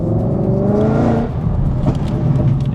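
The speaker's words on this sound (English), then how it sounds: "We've installed a 3-inch baller catback exhaust system onto this, along with some Cook's long tube headers, and as you can probably hear" A 1000 hp Ford Mustang Dark Horse with a 3-inch catback exhaust and long tube headers roars loudly up close, climbing in pitch through a rev before dropping into a rough, throbbing burble, with no talk.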